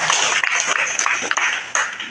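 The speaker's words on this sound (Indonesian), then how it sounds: "tepuk tangan untuk RT kita yang sekali" Applause at a village deliberation meeting, a short burst of brisk, close clapping from a small gathering, fairly loud and continuous.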